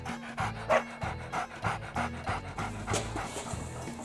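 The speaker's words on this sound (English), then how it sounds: "This is my puppy dog, Shadow." A puppy dog pants rapidly and steadily up close, a quick rhythmic huffing that runs throughout, with a low engine-like hum in the background.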